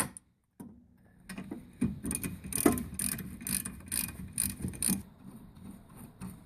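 A ratchet wrench backs out 14mm caliper bracket bolts on a rear disc brake, giving a run of quick, close clicks in irregular bursts, with a few metallic knocks mixed in.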